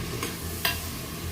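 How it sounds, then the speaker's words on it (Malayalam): Mutton curry is stirred as it fries in a pan over a wood fire, with a low steady sizzle and two brief scraping strokes of the spoon, close and without talk. "നമുക്കൊന്ന് ഇളക്കി കൊടുക്കാം."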